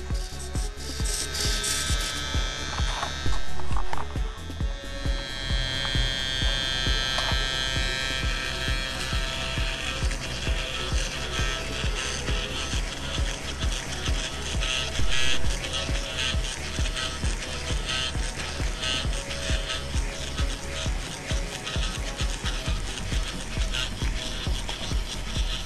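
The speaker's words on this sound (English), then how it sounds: "And this is the new servo," A newer-version servo on an RC helicopter gyroscope setup whirs and ratchets continuously, with a steady gear-driven buzz that rises in brief louder bursts, close up and with no talk.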